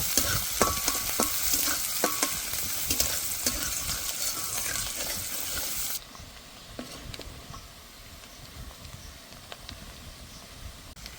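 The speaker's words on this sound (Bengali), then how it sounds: "দিয়ে দেব কুচি করা পেঁয়াজ, পেঁয়াজগুলো ভালো করে ভেজে নেব।" Chopped onions fry in a pan for a prawn malaikari, giving a loud, dense sizzle with scattered stirring clicks and scrapes. Partway through, the sizzle abruptly drops to a quieter, steadier hiss.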